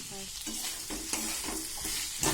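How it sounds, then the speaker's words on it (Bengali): A spoon scrapes in rhythmic strokes through spiced ivy gourd (kundru) and masala in a hot pan, the stirring heard close over a steady sizzle of frying. "তো এবার কুন্দ্রির সাথে আমি মশলাটা ভালোভাবে মিশিয়ে নেব"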